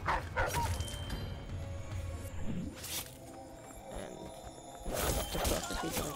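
A dog in the stealth video game Dishonored barks several times in short bursts, loud and close, mixed with game sound effects and a faint voice.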